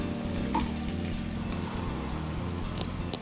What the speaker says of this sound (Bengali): তার সঙ্গে দিয়ে দিলাম কাজু কিশমিশগুলো। এবার এই সবগুলো একটু তেলের মধ্যে নেড়ে নেব